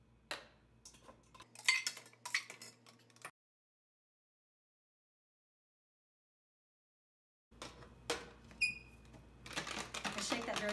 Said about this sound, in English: I shake that very gently because I don't want the fizz to go out.